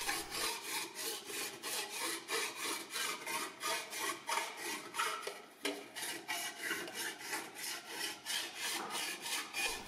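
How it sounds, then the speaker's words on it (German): Steady back-and-forth rasping of a hand file smoothing a sheet metal surface during finishing, about twenty even strokes with a brief pause midway, close and clear with no talk. "Durch das feine Abtragen der Oberfläche mit der Feile bleiben die tieferen Unebenheiten in der Anreißfarbe"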